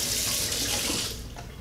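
An item is washed under a running kitchen faucet while making a Southern possum pie, a steady close hiss of flowing water into the sink that eases slightly near the end.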